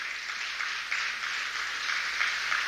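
Steady applause from an audience at a vaccine campaign launch ceremony, a dense, even wash of clapping that holds at a constant level throughout with no talk over it.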